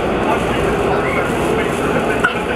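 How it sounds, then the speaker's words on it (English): Metro train at Metro Center station, a steady loud rumble of rolling cars filling the platform with a dense, continuous roar and faint clacks. "This is Metro Center, transfer point for the blue, orange, and silver line trains."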